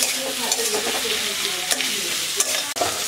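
Crushed garlic fries loudly in a pan for chicken curry, a dense crackling sizzle broken by the scrape and clack of a spoon stirring, close and alone without talk.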